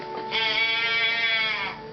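A voice imitates a sheep, letting out one long wavering bleat that holds steady for over a second, close and clear.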